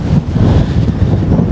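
Strong gusty wind buffeting a wild-camping tent at night, a loud, continuous low rumble of wind noise hitting the microphone with no talking.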